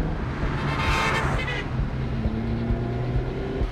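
Car engine revving and accelerating during a chase in Quantum Break, a steady loud motor roar with rising whine, no talk over it.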